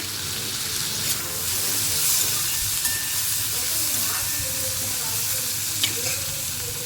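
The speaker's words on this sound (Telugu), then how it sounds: "కొంచెం వేగనిద్దామండి." Chopped onion and tomato fry in a pan, giving a continuous loud sizzle and hiss with faint stirring scrapes, steady throughout without pause.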